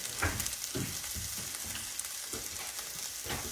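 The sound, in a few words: sausage frying in a pan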